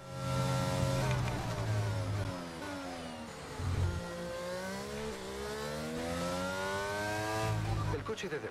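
Race car engines from an F1 racing video game roar and rev repeatedly, with pitch sweeping up and down through gear changes and tires squealing, while someone talks over them.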